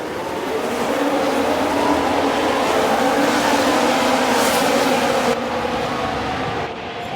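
F1 cars in the F1 Manager 24 game launching off the grid at the start of the Australian Grand Prix, a loud massed engine roar swelling and holding, then easing and cutting off near the end.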